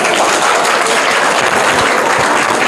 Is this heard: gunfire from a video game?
no